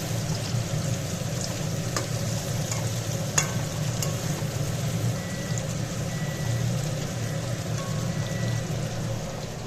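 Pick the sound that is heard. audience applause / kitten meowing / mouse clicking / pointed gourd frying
pointed gourd frying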